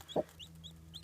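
A chicken, a young Easter Egger hen, gives a soft low cluck up close, while faint high chirps repeat through the short moment.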